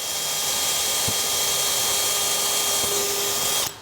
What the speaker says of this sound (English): drill in the plastic with a small drill bit